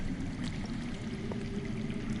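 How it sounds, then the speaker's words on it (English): Underground flowing water in a Game of Thrones video game, heard as a steady low rushing, pouring murmur that stays constant and fairly faint throughout. "I hear water. From underground."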